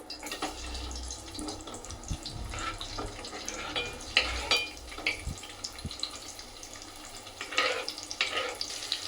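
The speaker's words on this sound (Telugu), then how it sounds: "ఆనియన్స్ని గోల్డెన్ కలర్ వచ్చే వరకు వేపుకోవాలి." Chopped onions fry in a pan for a chicken curry, giving a soft, steady sizzle with occasional stirring scrapes and small crackles rising and falling throughout, with no voices.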